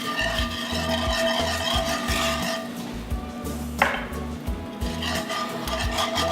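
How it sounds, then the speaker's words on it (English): A utensil stirs cream through a skillet after a seared prime NY steak, with steady rhythmic scraping strokes against the pan bottom, close and fairly loud, plus one sharper clink partway through. "I'm going to go ahead and add this cream. Give that a good stir."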